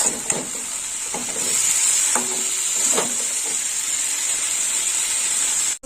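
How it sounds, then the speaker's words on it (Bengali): Spiced okra frying in oil with salt, stirred in a pan: a steady bright sizzle runs throughout, with a few soft stirring scrapes and clinks under it. "লবণ দিয়ে একটু নেড়ে চড়ে নেব মশলার কাঁচা কতটা বেরিয়ে দেবে একদম"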